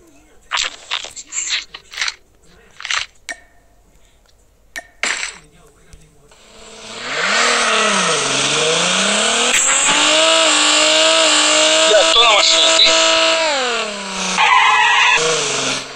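A car in Call of Duty Mobile revs up and drives hard with a long tire screech and skid, loud and sustained after a few short sounds, with brief voices before it.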